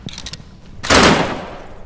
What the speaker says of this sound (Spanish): Estamos disparando mucho,